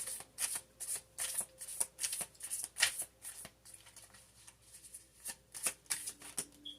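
Oracle cards are shuffled by hand, giving quiet repeated riffling bursts and soft slaps at an irregular rhythm, close to the mic with faint background hiss.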